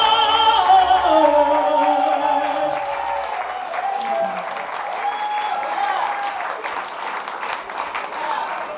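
Sustained applause from a gala audience for performers, a dense wash of many hands clapping that swells as closing music fades out underneath.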